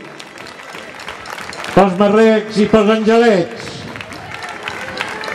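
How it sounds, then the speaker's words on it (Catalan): A town square crowd at a festa major applauds castellers, clapping running under a loud announcer speaking over a public address system. "Fort aplaudiment de tota la plaça."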